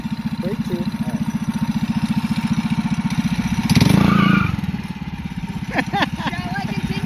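A Predator 212cc engine on a go-kart runs with a steady loud chugging idle, swelling briefly into a rev before settling back, with faint voices in the background.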